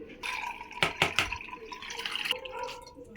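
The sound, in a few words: water draining from boiled potatoes through a colander pot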